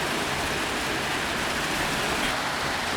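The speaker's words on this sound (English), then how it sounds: "The rain's coming hard now." Loud, dense hiss of heavy rain pouring steadily at a Bali street food stall, a constant wash of noise with no pauses or voices.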